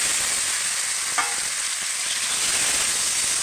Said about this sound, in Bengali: এবার আমি আলু আর ঝিঙেটা দিয়ে দিচ্ছি